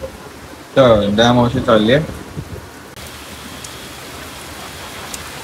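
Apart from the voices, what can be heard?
heavy rain falling outside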